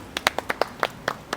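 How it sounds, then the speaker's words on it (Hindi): Hand clapping at an Audi Q3 car delivery: about eight quick, close claps in an uneven rhythm, heard alone with no talking. "ताली बजा दो भाई"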